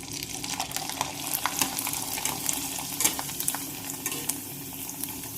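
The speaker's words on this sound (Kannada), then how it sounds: "ಈಗ ನಾನು ನಿಮ್ಗೆ ಒಂದು ಸ್ವಲ್ಪ ಫ್ರೈ ಮಾಡಿ ತೋರಿಸ್ತಾನು." Disco papdi frying in hot oil, a steady bubbling sizzle with scattered crackles and faint stirring clinks, close and continuous throughout with no voices.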